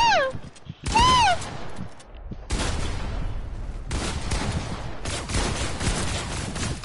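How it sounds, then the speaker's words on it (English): Pulse rifle fire in a video game, loud sustained bursts of rapid shots with short gaps between them, mixed with game effects and a brief rising electronic tone early on. "Using a pulse rifle,"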